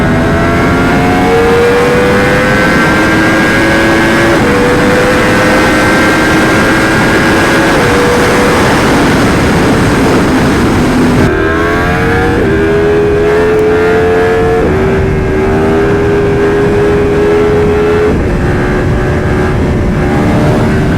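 A Yamaha R1 sport motorcycle, a crash-damaged bike ridden on city streets, revs hard and climbs through the gears, its loud engine pitch rising and dropping again with each quick shift, close and without talk.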